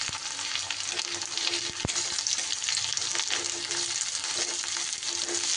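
Chopped onions fry in spiced oil with a continuous, even sizzle. One sharp knock and a few faint stirring sounds come through, and nothing else is heard.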